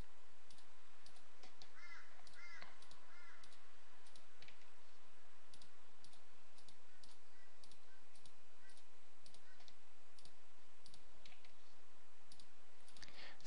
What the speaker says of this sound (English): click all the little boxes,